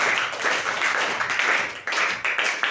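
A class claps for a student, giving a steady close patter of many hands for under three seconds.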